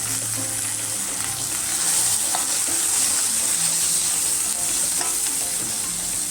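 Turmeric sizzles in a hot tempering (phodni) for pohe, a loud, constant close crackle with occasional spoon scrapes and taps against the pan.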